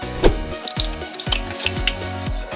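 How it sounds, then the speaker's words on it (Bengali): Palm fruit fritter batter is frying in hot oil over low to medium flame. The bubbling comes with sharp, knocking clatters at a quick, uneven rhythm, close and fairly loud, with no voices. "এবার এটাকে ভালো করে মেখে গরম গরম তেলে ছেড়ে দেবো।"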